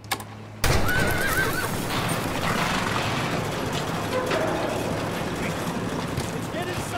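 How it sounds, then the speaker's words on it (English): Horses neigh and whinny repeatedly in The Walking Dead video game, with clip-clopping hooves and mechanical clanks beneath, loud and close, while voices talk over the scene. "Look at these people on horses."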